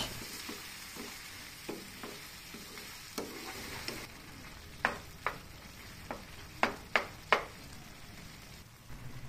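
Egg and mixed-vegetable mixture with all-purpose cream, for sipo eggs with ham, being stirred in a pan: soft bubbling under a series of distinct spoon scrapes and clinks that grow sharper toward the end.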